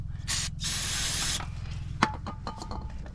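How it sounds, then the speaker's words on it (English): Two hissing bursts of aerosol spray cleaning a brake caliper boot on a Toyota RAV4, a short one then a longer steady blast, followed by a few light metallic clicks and taps. "I'm gonna spray and clean the boot."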